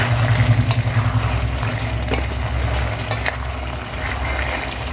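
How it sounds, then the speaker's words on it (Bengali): Bottle gourd cooking in a pan, stirred with a spoon after the lid is lifted, giving a steady soft sizzle with faint scraping and a few light clinks, no talking. "এবার ঢাকাটা তুলে একটু নাড়িয়ে নেব।"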